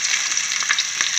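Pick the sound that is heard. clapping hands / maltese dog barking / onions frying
onions frying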